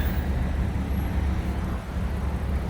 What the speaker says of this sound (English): So noisy, Jesus Christ. And the traffic jam